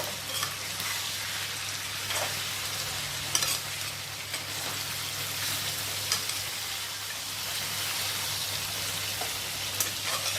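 Curry stirred in a frying pan, a steady close sizzle with scraping strokes of the spoon running throughout, no voices.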